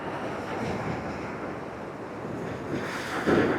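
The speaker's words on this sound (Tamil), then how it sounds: "சரியான அலைங்க. அந்த மோதுது பாருங்கள்." Waves surge and crash against the shore at Piha Beach, New Zealand, with steady wind noise, a heavier wave hitting near the end.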